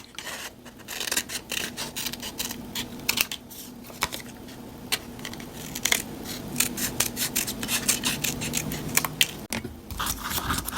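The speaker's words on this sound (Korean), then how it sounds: "아랫부분은 마찬가지로 지그재그로 패턴을 잘라주세요" Scissors snip through a paper sewing pattern for a tailored jacket, cutting a zigzag edge with continuous close rasping and crisp clicks, and no talking.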